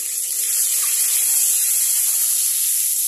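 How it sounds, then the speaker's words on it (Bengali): Eggs frying in oil in a wok, a steady loud sizzling hiss that runs on without break and stays close throughout. "এবার আমি এখানে কড়াইয়ের মধ্যে যে তেলটা দিয়েছিলাম, এখানে ডিমগুলোকে ভেজে নিচ্ছি।"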